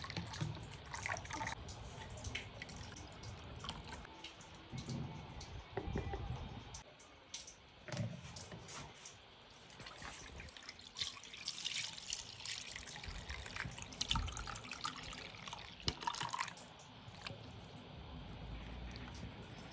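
Pineapple, cucumber and dates juice pours and trickles through a sieve, a soft uneven liquid splashing and dribbling with faint clinks, quiet and close, with no talk.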